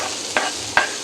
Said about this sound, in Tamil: அது நல்லா ப்ரௌனிஷாக வர்ற வரைக்கும் ஃப்ரை பண்ணிக்கலாம்.